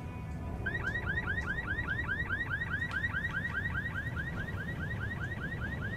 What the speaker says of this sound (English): Why does the car alarm trick always work?